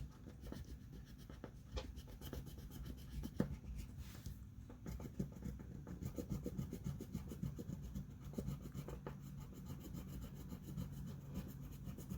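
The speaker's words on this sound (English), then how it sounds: "I just want to make sure it's all rubbed down." Handmade journal being rubbed down by hand, a continuous close dry scraping and rubbing with a steady back-and-forth texture, quiet and without speech.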